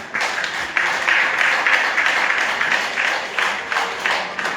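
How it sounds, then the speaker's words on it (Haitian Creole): A church congregation applauds a guest, a dense and steady patter of many hands clapping together for several seconds, with no clear voices on top. "On applaudit pendant l'après-midi Tichéa parce que c'est lui qui est invité."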